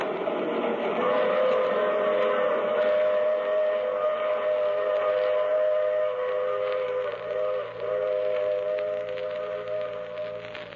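A train rumbles steadily while a sustained, multi-toned whistle sounds over it for most of the stretch, fairly loud and continuous.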